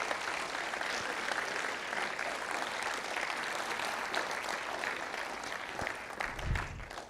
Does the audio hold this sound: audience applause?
yes